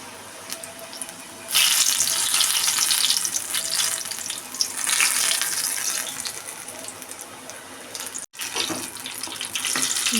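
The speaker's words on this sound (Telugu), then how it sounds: "ఇలా బాయిల్ అయిన ఆయిల్లో ఒకటి సమోసా వేసుకుంటూ లో ఫ్లేమ్లో ఫ్రై" Samosas deep-fry in hot oil over a low flame, with a loud, close, bubbling sizzle that swells suddenly after a quieter start and carries on steadily, briefly cutting out near the end.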